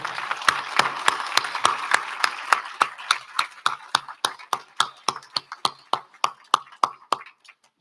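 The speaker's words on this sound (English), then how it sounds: "can we give a rousing applause to our panel?" An audience at a Martin Luther King Jr. celebration applauds a panel, a dense wash of clapping that thins into a few slow, loud, evenly spaced claps from one nearby person.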